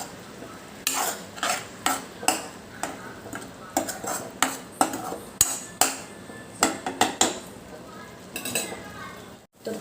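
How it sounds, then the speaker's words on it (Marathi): A spoon stirs green moong dal curry in a pan over a low flame, each stroke scraping and knocking against the metal in a repeated pattern of sharp, close clatters, with a soft background sizzle and no talking. "आता आपल्या भाजीला चांगलं तेल सुटेपर्यंत चांगलं मिक्स करून घ्यायचं आहे"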